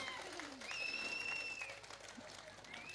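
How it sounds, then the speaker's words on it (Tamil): An audience at a Tamil folk comedy stage show applauds with steady, soft, distant clapping and crowd noise. A high, thin sustained tone rises over it for a moment. "நல்லா இருக்க கைதட்டு கொடுக்க பார்க்கலாம்."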